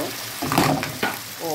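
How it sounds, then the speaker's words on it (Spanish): Blended tomato hits hot spices in a pan with a sudden loud hiss and sizzle. It is brief and near, and a voice comes in at the very end. "Y vamos a agregar el tomate licuado"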